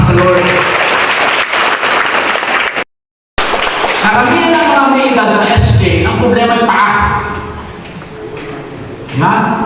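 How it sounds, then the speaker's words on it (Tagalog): Church congregation at a Sunday service clapping loudly, a dense burst of applause that breaks off briefly, then continues under voices talking and calling out. "Palakpak ko ng malakas sa Lord."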